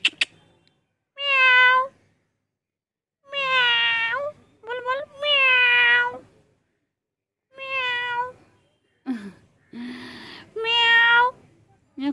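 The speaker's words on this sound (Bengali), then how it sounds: "মিয়াও কর, মিয়াও কর, মিয়াও করো।" A pet cat meows repeatedly in clear, close, drawn-out calls separated by short pauses, with a person's voice coaxing it between some of the meows.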